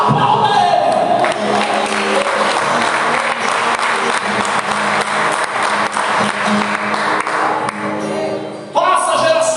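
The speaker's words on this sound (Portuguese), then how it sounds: "Aplauda Ele." A church congregation applauding and cheering during a sermon, loud sustained clapping and shouts from a packed room for several seconds, with voices rising through it before the crowd noise drops off near the end.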